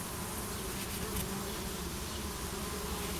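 Honey bees swarm and buzz at the entrance of a hive in summer, a dense, continuous drone of many wings that stays close and even throughout, with no voices.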